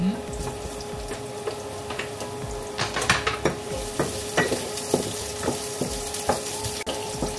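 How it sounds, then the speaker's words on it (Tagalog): Onions and garlic fry in hot olive oil for chop suey, a loud steady sizzle broken by repeated sharp scrapes and clacks of a spoon stirring in the pan, with no voices. "maglalagay lang ako ng olive oil. Kasi mainit na to guys. And then, onions and garlic, isabay ko na din."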